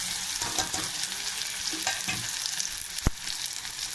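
A spiced paste with salt and turmeric fries in a pan, sizzling steadily up close with stirring scrapes and one sharp clack of a utensil near the end, no voices.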